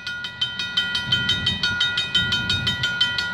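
A Canadian Pacific train passes at Milburough Line on the Galt Subdivision on a frigid evening, with steady rhythmic clicking of wheels over rail joints and a low rumble of the cars.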